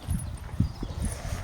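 A buffalo's hooves clip-clopping near a rural home, a few close, soft, uneven hoofbeats on the ground with faint background noise.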